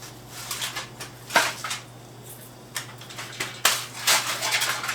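A knife cuts through onion on a cutting board in a home kitchen, making a few sharp, irregular chopping taps over a faint steady hum. No one speaks.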